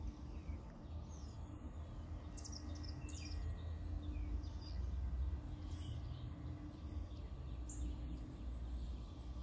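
Faint birds chirp and tweet in scattered short calls over a steady low outdoor rumble, distant and quiet throughout.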